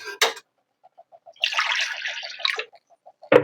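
Water is poured into a pot of saag as it cooks, a short gush and splash following a run of small, evenly spaced drips and a sharp clink at the start, heard up close without speech.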